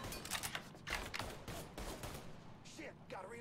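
Sniper rifle fire in the Mafia 3: Definitive Edition video game, with a rapid run of sharp gunshot cracks in the first two seconds, then quieter game effects trailing off.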